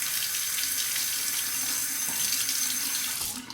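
A bathroom tap runs in a steady, close stream while a razor is rinsed, with the water dropping away at the very end.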